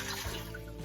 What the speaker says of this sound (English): I'm going to add the 4 cups of water